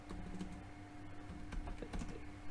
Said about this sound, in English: I'm busy typing and I shouldn't be.